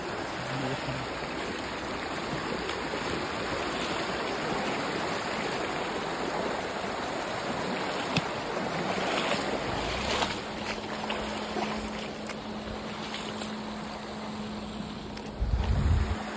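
A stream flows continuously nearby near Pathivara temple, Nallu, shallow enough to wade across, a steady broad hiss and gurgle, with a brief low rumble near the end.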